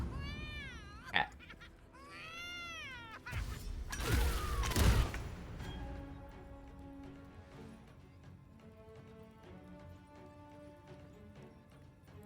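A cat gives a few rising and falling meows early on, followed by a louder burst of noisy rustling and clatter, then quieter tonal sounds trailing off.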